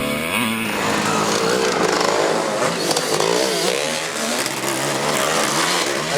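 Vintage race motorcycles roar past at a vintage motorcycle race event, several engines revving hard and overlapping in a loud, rasping, wavering blare that swells and fades as they go by.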